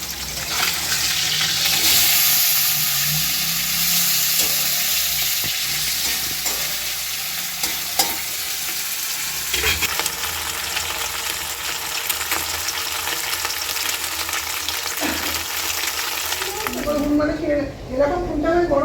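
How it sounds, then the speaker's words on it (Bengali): Four pieces of fish fry in a pan, a loud, continuous sizzle with occasional crackles and stirring sounds, a voice now and then, and a brief clatter near the end. "মাছটা ভাজতে শুরু করেছি"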